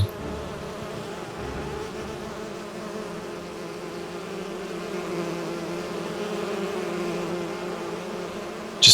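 Droning buzz of bees at a small honey farm in the Skyrim mod Enderal, a steady, fairly close hum that swells slightly and continues throughout with no talk over it.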